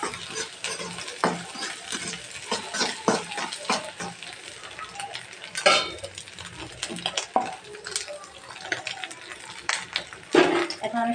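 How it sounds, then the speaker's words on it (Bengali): Turmeric, chili and cumin powder fry together in a pan, a steady close sizzle broken by repeated scraping stirs and occasional louder clatters of the spoon against the pan. "এখন এটাকে আমি ভেজে নেব একসাথে"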